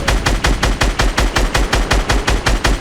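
Rapid automatic gunfire from a Fortnite Battle Royale match, loud and close, with evenly spaced shots in a steady rhythm over about three seconds and no talk.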